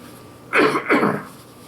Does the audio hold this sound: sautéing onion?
no